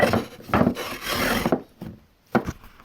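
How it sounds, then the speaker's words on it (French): Hand plane and sandpaper working old wooden boards for a restored antique cart: rhythmic rasping strokes close up, a few long scrapes followed by quieter pauses and one last sharp stroke. "un petit coup de rabot, un petit coup de ponçage sur ces planes pour qu'elles soient complètement lisses"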